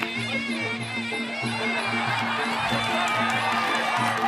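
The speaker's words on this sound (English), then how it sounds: "the crowd went wild" A crowd at a Thai Fight Muay Thai event in Samui roars and cheers loudly and continuously, a dense wash of voices rising toward the end, with a commentator's voice faintly underneath.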